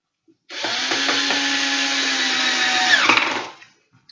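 A power screwdriver drives a screw into wood in one burst of about three seconds, a close whirring motor whine that strains and pitches down slightly near the end before stopping.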